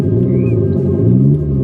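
An Abarth 500e electric car's sound generator plays an artificial engine note, a loud, steady, close hum with layered harmonics that rises slightly in pitch as the car accelerates.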